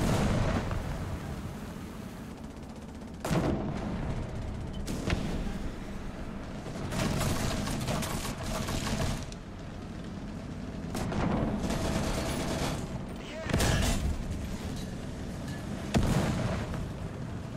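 Tank gun firing in the video game War Thunder, several heavy booming shots spaced a few seconds apart over a constant rumbling engine and battlefield din.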